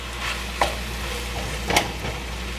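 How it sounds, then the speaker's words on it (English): BLT mac and cheese ingredients are stirred together in a bowl, a soft scraping and mixing sound with two brief louder clinks or scrapes over a faint background hiss, no talk. "Nice, good stir. Everything blended."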